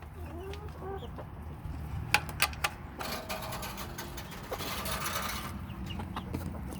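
Hens let out of their enclosure onto pasture cluck softly and repeatedly, with a few sharper calls and faint mechanical clicks, quiet and nearby with no speech.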